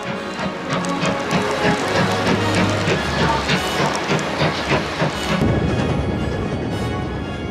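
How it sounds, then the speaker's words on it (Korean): A train rumbles steadily along the tracks through the West Highlands of Scotland with a hissing, rattling roar and rhythmic clatter, loud and continuous throughout. "그리고 곧 기차는 영화 속 풍경을 달립니다."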